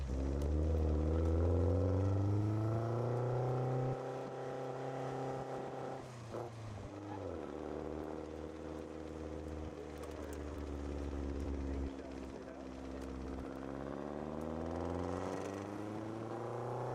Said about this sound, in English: My first Lotus ride.